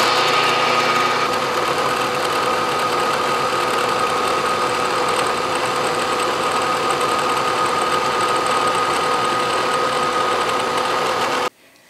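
A South Bend milling attachment on a lathe cuts metal with a steady, loud machine whir and a chattering cutter, running continuously for about eleven seconds before stopping abruptly.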